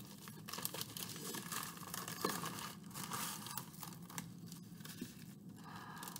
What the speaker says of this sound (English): We're just going to use the scissors.